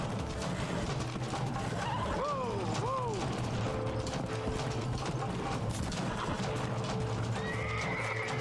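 Horse in the Red Dead Redemption video game neighing twice, then hooves clip-clopping and galloping under mechanical game noise and a faint, distant voice.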